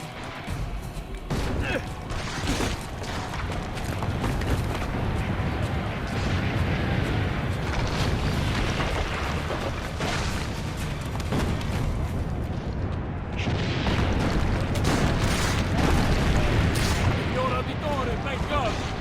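Cannon fire and explosions from the Assassin's Creed Brotherhood Remastered video game form a dense, continuous barrage of booms and rumbling blasts lasting throughout, loud and close, with a voice speaking over the battle noise.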